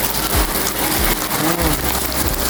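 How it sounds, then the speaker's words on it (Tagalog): Hailstones fall and strike nearby surfaces in a dense, loud patter, with a few sharper individual impacts standing out from the continuous clatter. "Yan, tumatama sa akin yelo mga boss, oh."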